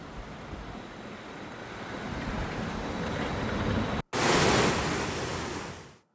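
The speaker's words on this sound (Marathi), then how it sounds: "अरुणावती नदी दुधडी भरून वाहू लागलेली आहे" A swollen river in flood rushes past as a loud, continuous roar of churning water. The sound is dense and unbroken, with a sudden cut near the end followed by an even louder surge.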